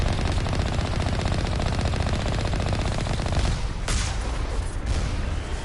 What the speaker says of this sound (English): They must have added some more cannons.